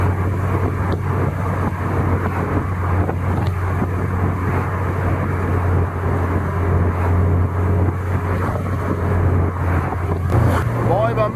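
A Peugeot 205 GTi drives on a motorway after ten years in storage, giving a steady loud engine drone with road and wind noise heard from inside the car, and someone speaks at times.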